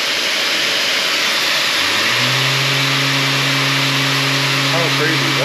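A Mirka Deros electric dust-free sander starts from silence and spins up to about 8,000 RPM, then holds a loud, steady, high whine with a constant hum beneath it.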